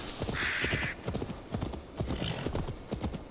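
Horse hooves clip-clop at a steady trot in Assassin's Creed Valhalla, with a bright neigh partway through, fairly quiet and close, with no talking over it.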